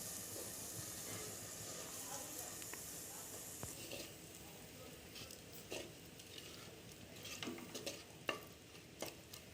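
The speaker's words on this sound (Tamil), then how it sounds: "பேஸ்ட்டு சேர்த்ததுக்கப்புறமா நல்லா கலந்து விடுங்க." Ground masala paste being mixed into a simmering fish curry in a pan, a low scraping stir with soft sizzling and occasional clinks of the spoon, fairly quiet and close, with no one talking.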